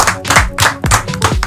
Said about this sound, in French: Et la famille applaudissements.